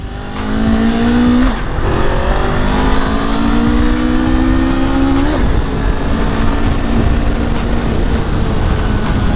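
A Honda CL500 motorcycle is ridden and accelerates hard, its engine note climbing through two rising gear pulls before settling into a steady, loud close-up drone with wind rush.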